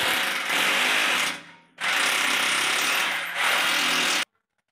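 A power drill bores a hole in a wall for a plumbing fitting, two loud, sustained grinding bursts of about a second and a half each with a short pause between, then silence.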